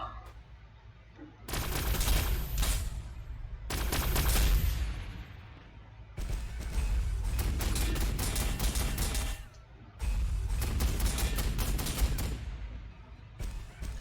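Repeated bursts of grenade launcher gunfire and explosions in the Warhammer 40,000: Sanctus Reach strategy game, several loud volleys separated by short lulls, with no talking.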